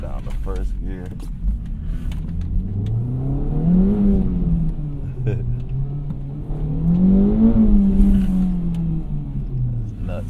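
An Acura Integra Type S accelerates hard in first gear, its engine climbing in pitch twice in loud, rising surges heard from inside the car, with a person talking over it.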